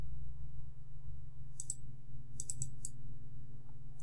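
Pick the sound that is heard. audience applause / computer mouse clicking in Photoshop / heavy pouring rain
computer mouse clicking in Photoshop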